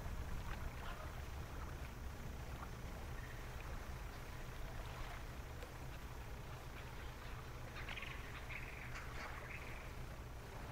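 A slow fishing boat chugging through water in the video game Dredge, a steady low engine hum with gentle lapping water and faint bird calls, continuous throughout.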